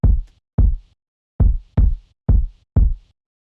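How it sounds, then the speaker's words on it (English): Six deep, punchy bass kick drum hits in an uneven pattern, each short and booming, with silence between them. "The first layer I have here is this kick, which sounds like this."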